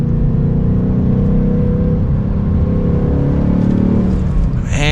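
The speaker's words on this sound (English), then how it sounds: "You mainly hear the exhaust." A steady, loud engine drone from a 2022 Ford Mustang GT coupe with a six-speed manual under way, a deep continuous exhaust rumble with little change in pitch.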